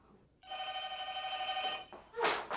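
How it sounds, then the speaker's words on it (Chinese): A telephone bell rings in a single sustained ring of about a second and a half, followed by brief clattering noise. The sound is moderately close, with no one speaking. "电话啦！ 哪个无人要接电话？"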